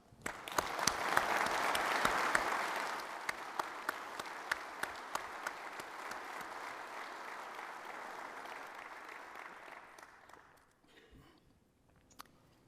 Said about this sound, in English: ask that each of you join me in a round of applause for her